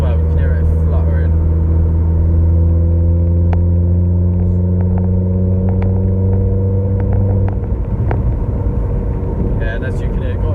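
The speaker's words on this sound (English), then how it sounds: "The new turbo from Motorsport as well. It's loud as well, you can hear it fluttering." A modified Vauxhall Corsa VXR engine with a new Motorsport turbo idles loudly and steadily up close with a deep droning hum, fuller rumble after about eight seconds; people talk faintly over it.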